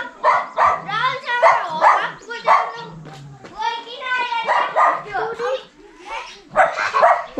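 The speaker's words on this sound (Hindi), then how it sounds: "ये है पहाड़ वाला कुत्ता" A mountain dog in a Himalayan village of Gorkha people barks and yips in short, loud bursts near the microphone, mixed with whimpering sounds, over several seconds.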